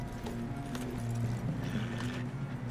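Horse hooves clip-clop in a steady, faint rhythm in the video game Red Dead Redemption 2, with no one talking over them.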